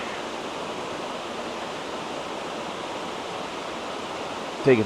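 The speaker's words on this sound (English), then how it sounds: "it's really a vertical waterfall" Steady broadband rush of a vertical waterfall falling on location, a continuous close roar with no pauses and a brief knock near the end.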